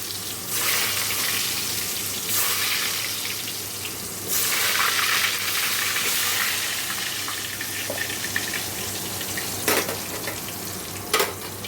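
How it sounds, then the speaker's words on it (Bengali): Potatoes rubbed with salt and turmeric sizzle and crackle steadily in hot oil in a home kitchen pan, with occasional louder stirring scrapes and bursts, no voices over the frying. "চলো আগে আলুগুলো ভেজে নেবো"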